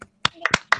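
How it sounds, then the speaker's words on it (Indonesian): A handful of quick hand claps, sharp and close, sound in a short uneven burst during an online class session. "Boleh tepuk tangan dulu yuk untuk kita semua"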